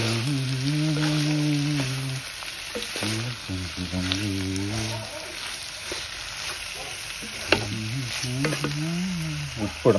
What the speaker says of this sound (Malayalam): ഇനി ഇതിൻ്റെ അകത്ത് കുറച്ച് കരിയാപ്പിലും കൂടെ ഇടണം. എന്നിട്ട് ശരിക്കും ഒന്ന് വഴറ്റിയെടുക്കണം.